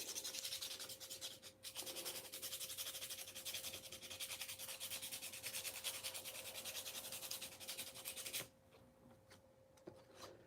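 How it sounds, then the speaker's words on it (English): A designer toy is hand-polished with finer grades of abrasive, making a soft, continuous rubbing and scratching close by that runs for about eight seconds and then eases off into quieter strokes. "Then we'll go back to polishing grades."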